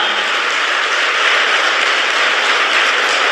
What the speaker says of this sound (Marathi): पत्नी ह्या डोनरसाठी अशाच जोरात टाळ्या वाजवा